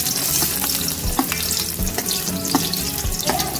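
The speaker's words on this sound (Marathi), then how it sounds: "आता आपण पास्त्याला फोडणी देऊन घ्या. त्याच्यासाठी सगळ्यात अगोदर कांदा" Onion frying in hot oil as the tempering for a masala pasta, with a close, steady sizzle broken by stirring scrapes and clinks. No voices are heard.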